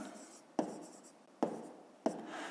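A pen writes a math answer on paper, giving soft scratchy strokes broken by three sharp taps of the tip landing, close and quiet.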